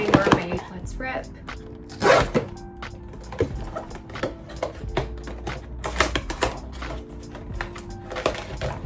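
Hands tear open the foil packaging of a Pop Mart Crybaby blind box from the On Vacation series, producing dense, close crinkling and rapid tearing crackles throughout, loud and continuous with sharper bursts.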